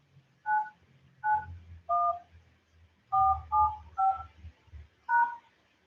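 A telephone keypad on a conference call line beeps out an access code as eight crisp DTMF tones, spaced irregularly with short pauses between them, alone over faint background.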